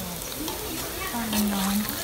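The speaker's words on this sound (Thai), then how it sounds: "นี่จะเริ่มทอด" Batter-coated mushrooms fry in hot oil, a steady crackling sizzle running throughout with someone talking over it.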